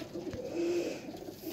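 A teddy pigeon gives a soft, low coo, one short murmuring call, faint and close, with no other sound around it.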